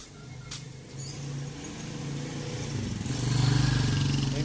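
Motorcycles passing on a street, engine drone swelling louder toward the end as a bike nears, with a couple of faint clicks early on.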